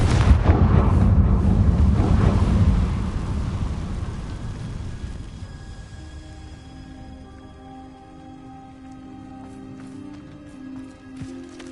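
A Confringo blasting spell in Hogwarts Legacy lets off a loud, booming explosive burst with a rumbling roar that slowly fades, leaving a lingering tonal ring behind.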